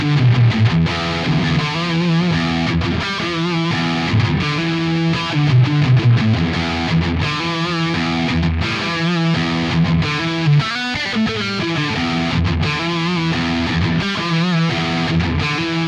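A Fender Ultra Luxe Vintage 60's Telecaster electric guitar plays a steady, distorted, effects-laden passage of chords and notes, loud and close with no voices.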